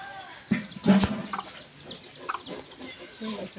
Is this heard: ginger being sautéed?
no